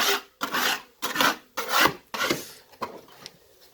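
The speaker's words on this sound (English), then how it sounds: "This is a drywall budding tool, and I scrape off this stuff here, clean off the bottom board." A drywall taping tool rasps and scrapes debris off a wooden beehive bottom board in about six firm, close strokes, each a short gritty scrape separated by brief pauses, with no talking.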